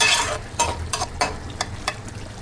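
A curry of taro, potato and small shrimp cooks in a pan, with a steady sizzle and a run of scraping stir strokes coming at an uneven rhythm, close and fairly loud.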